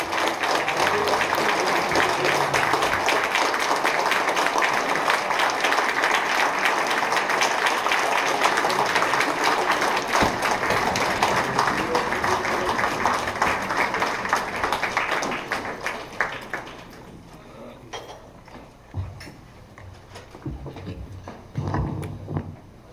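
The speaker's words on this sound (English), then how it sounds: "A round of applause, please." Applause from an audience at the inauguration ceremony of President Đào Minh Quân, a sustained dense wash of clapping that holds steady for about fifteen seconds, then thins into scattered claps and fades.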